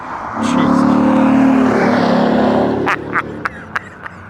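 A 1991 Chevrolet Corvette ZR1, a 3,400-pound car with 375 horsepower, accelerates hard with a loud, sustained engine roar that fades into a few sharp bumps and clicks at the end.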